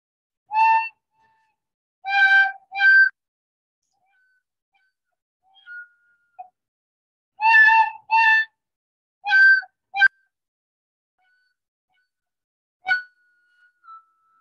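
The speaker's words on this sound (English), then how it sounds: "here's my best go at playing the new part on the tin whistle" A few short, bright tin whistle notes in separated bursts with long silent gaps, like a halting attempt at a tune.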